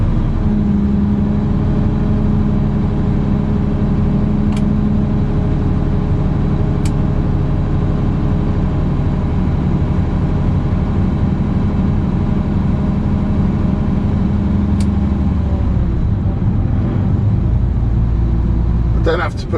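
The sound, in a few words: lorry hook loader retracting its hook, engine running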